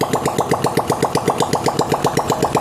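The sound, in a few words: Honda CD70 motorcycle kick-started and idling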